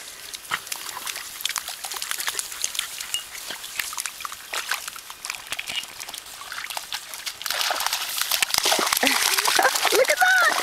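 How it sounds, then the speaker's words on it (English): Puppies splash through a pond, a busy run of light splashes, drips and trickling water that grows louder toward the end, with a person talking at times. "It's hard to catch them because they go through the water so quickly."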